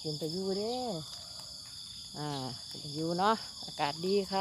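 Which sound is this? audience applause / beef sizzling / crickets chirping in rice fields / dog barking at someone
crickets chirping in rice fields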